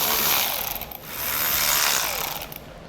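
Hand ratchet fitted with a 10mm socket loosening panel fasteners under a car, fast clicking pawl ticks running nearly throughout, close and fairly loud, with a short pause around the middle.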